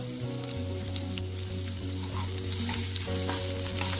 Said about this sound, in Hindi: इसमें अब डाल देते हैं प्याज बारीक चॉप किया हुआ।